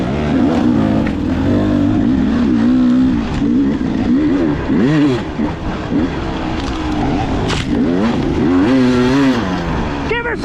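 Two-stroke dirt bike at a sprint enduro, loud and close, its engine rising and falling through repeated rapid revs and throttle blips, with some shouting voices mixed in.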